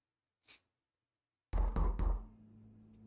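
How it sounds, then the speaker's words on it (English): Three quick, heavy knocks land on a door in the Omori video game, loud and close, following a faint earlier tap and leaving a low hum ringing afterward. "who's knocking on my door like that?"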